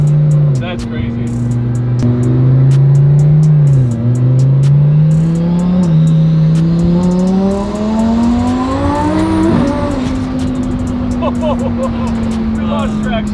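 Twin-turbo widebody Lamborghini engine accelerating hard at half throttle: a loud, close roar that climbs steadily in pitch, dips briefly once, then rises again before easing, with excited voices talking over it.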